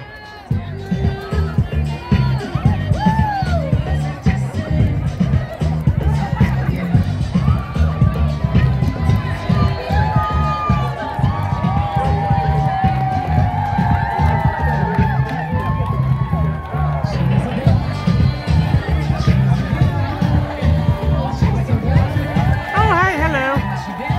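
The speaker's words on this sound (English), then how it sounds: "Hey, quite a crowd here, everyone." A big, lively crowd at the Sacramento Pride parade, with continuous cheering, chatter and shouting close by and steady, dense noise throughout.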